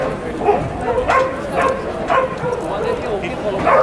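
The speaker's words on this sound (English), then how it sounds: "There's dogs barking" German Shepherd dogs barking during bite and protection training, repeated sharp barks and yips at a moderate distance, under continuous talking throughout.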